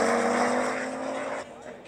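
Two coupes, a Fiat Coupe and an Audi Coupe, launch together in a B-class semifinal drag race, engines roaring loud and steady at the start before easing off, with crowd noise and voices in the background.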